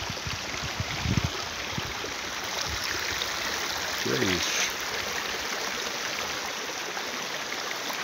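A clear stream runs over stones in a forest, giving a steady broadband flowing rush throughout with a brief louder splash; someone speaks briefly over it.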